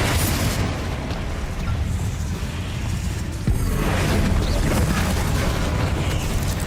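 A Confringo spell blast in Hogwarts Legacy gives a loud, sustained roaring burst of explosive noise that swells midway and keeps rumbling to the end.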